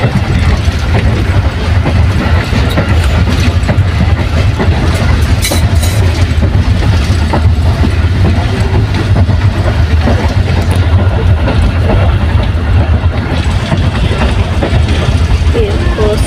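A moving passenger train on the Karachi to Lahore route, heard from inside the carriage: a loud, continuous low rumble and rolling drone holding steady throughout.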